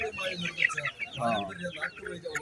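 Four-month-old Egyptian Fayoumi chickens clucking and calling at a village poultry market, nearby and moderately loud, with people talking over the birds.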